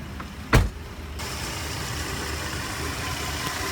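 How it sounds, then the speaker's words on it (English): A Dodge Nitro truck idles with its engine left running, a steady low hum after a brief louder thump near the start, continuing evenly with no voices. "So leave the truck running for about a few more minutes and see what happens next."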